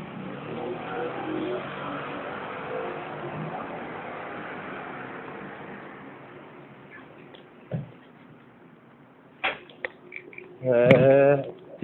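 A Yamaha TTR 250 motorcycle engine rumbles steadily at a racing circuit, then fades into quieter background with a few sharp knocks and a brief burst of noise near the end.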